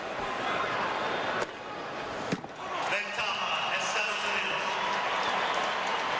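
Applause breaks out after Rafael Nadal's clean volley winner against an opponent in a tennis match, a sustained crowd clapping with a couple of sharp knocks, under a commentator talking.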